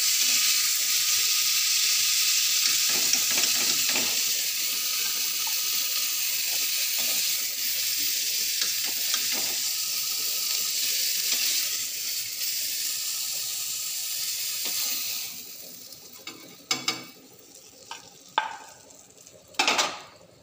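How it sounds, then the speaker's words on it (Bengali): Potatoes frying in hot oil give a bright, continuous sizzle close by for most of the stretch, then it thins out and a few sharp clanks and knocks of a pan or utensil follow near the end. "আলু ভাজা হয়ে গেল"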